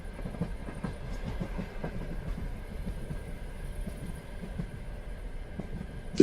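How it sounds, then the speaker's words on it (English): Night train running through countryside, a continuous rolling rumble with steady rhythmic clickety-clack of wheels over rail joints, moderately near and unbroken, with a sharp clank at the very end. "train presses onward"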